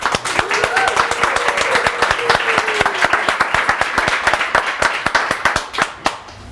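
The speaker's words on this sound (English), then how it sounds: "Please, guys, give Nic a big round of applause." An audience at a talk on design systems gives a round of applause, with dense, steady clapping of many hands close by. It thins out toward the end, and a voice is faintly audible beneath it.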